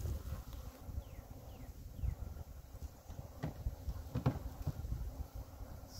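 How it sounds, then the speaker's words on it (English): Faint, steady buzzing of many bees flying around a hive, with occasional soft knocks and bumps nearby. "all the bees, you'll see, they can fly around"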